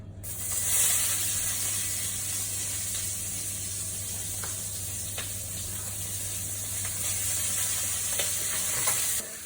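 One sliced onion fries in a little oil in a pan, producing a steady, close sizzle with a few light clicks of stirring throughout, with no voices.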